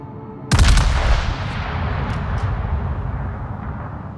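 A heavy naval gun salvo from the World of Warships game, fired by the battleship Strasbourg. A sudden loud close boom rolls into a long rumbling decay, with no talk.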